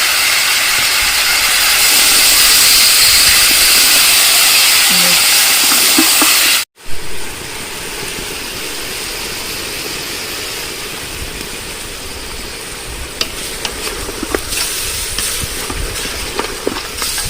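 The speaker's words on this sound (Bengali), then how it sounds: "সেই মাটন হচ্ছে, নাড়া হচ্ছে, ভাজার কাজ চলছে" Mutton being stirred and fried with salt for kacchi biryani gives a steady loud hiss. A brief dropout cuts in partway, then the sizzle carries on a little softer, with scattered scrapes of stirring.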